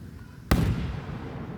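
A single loud firework bang bursts at a July 3rd show in Montgomery, then a long rolling echo trails off across the open air.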